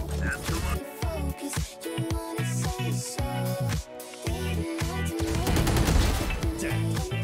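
Gunfire from the video game Valorant crackles in rapid bursts and single shots amid game effects and music-like tones, with players talking over the action.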